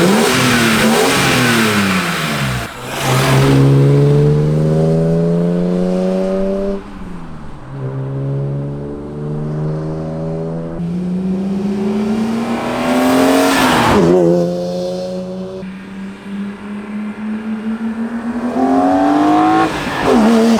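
A BMW E46 M3 engine revs up repeatedly, each rise climbing to a raspy peak before dropping back to idle, loud and close with no talking.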